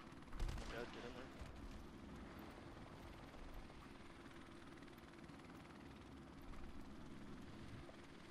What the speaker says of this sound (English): Enemy helicopter inbound!